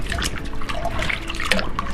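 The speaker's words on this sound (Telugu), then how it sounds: "కడిగిన నీళ్ళు కూడా ఇందులో పోసుకోవాలి" Water from washed urad dal (black gram) is poured into a container for compost, a short continuous splashing trickle that stays close and fairly loud throughout.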